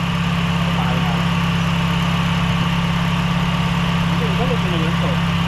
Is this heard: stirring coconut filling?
no